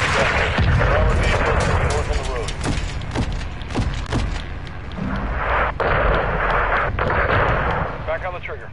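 Missile blasts and rapid gunfire from a PS4 shooter game ring out continuously, with heavy booms and sharp cracks stacked over a dense, loud battle bed while a voice speaks over the action.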